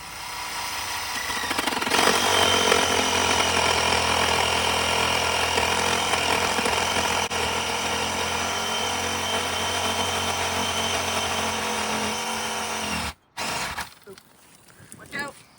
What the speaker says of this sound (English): I was wrong, we're using a sawzall.